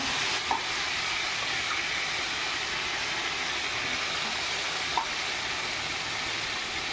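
Raw mango pieces sizzle steadily in hot ghee while moramba is being made. The continuous frying hiss runs throughout, with two faint clicks and no talking.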